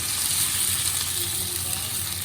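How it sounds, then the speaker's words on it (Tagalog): Broth hitting hot clams in a pan gives a loud, steady sizzle and bubbling hiss that holds evenly throughout the short stretch. "Lagyan natin, lagyan natin ng sabaw"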